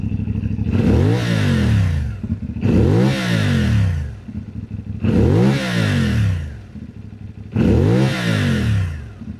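A CF Moto 450NK or KTM Duke 390 motorcycle engine, warmed up, revs up and settles four times at low rpm in a steady rhythm, throaty and loud at close range, idling between each rise.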